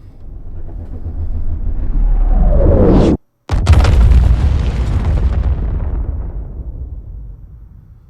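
An A2 MOAB bomb detonating in the video game Star Citizen: a huge, deep rumbling explosion that swells, cuts out abruptly for a moment, then roars back and slowly fades, heard alone.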